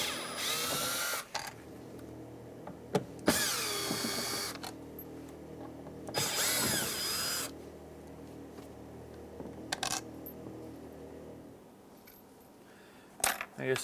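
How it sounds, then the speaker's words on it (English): A Phillips screwdriver backs screws out of a 2003-2011 Honda Element front door panel, giving several bursts of rapid ratcheting and grinding clicks separated by quieter gaps, close to the ear with no talk. "We're going to remove these three screws."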